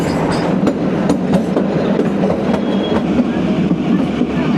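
Kalka-Shimla toy train rolling along with a steady, dense rumble and faint rail clicks, a continuous loud ride noise close around the listener.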